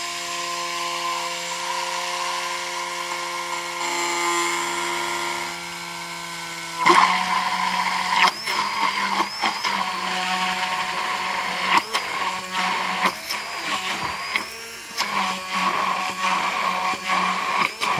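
A blender whirs at full speed emulsifying whole egg, olive oil and mayonnaise ingredients, a steady motor drone that jumps louder partway through, with rattling bursts and shifting pitch as the mixture thickens.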